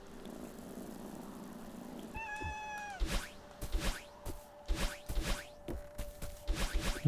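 A cat in the Celeste video game meows several times in a row, each call bright and clear, following a short purring stretch, with a steady game tone underneath and no talking.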